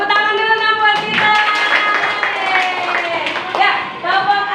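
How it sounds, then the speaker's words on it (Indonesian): Children clap their hands in a classroom, a run of sharp claps mixed with chanting young voices that carry on throughout. "Tepuk tangan dulu nak buat kita."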